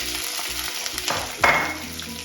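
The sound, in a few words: mustard seeds, fennel and green chilli sizzling in a curry pan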